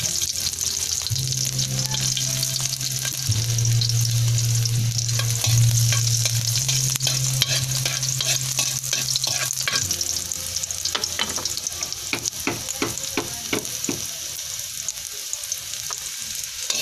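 Garlic sautés in hot oil for a clam and string bean dish, a dense, loud crackling sizzle that runs throughout with quick spatula stirs and scrapes toward the end, plus a low steady hum in the background.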